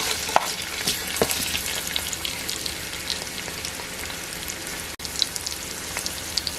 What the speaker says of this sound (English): I'm going to come and add my onions.